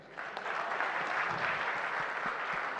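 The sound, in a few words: audience applause for the film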